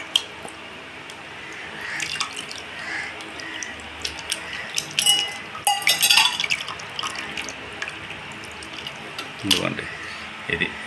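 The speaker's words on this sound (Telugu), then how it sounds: "దాంట్లో మళ్ళీ ఒక చెంబు నీళ్ళు పోసి నీట్గా ఆ నీళ్ళన్నీ మళ్ళీ ఇందులో పోసుకుంటుంది." Water is poured from a vessel over leftover tamarind pulp into another pot in a home kitchen, producing intermittent splashing and trickling with a brief louder pour midway, under a voice speaking.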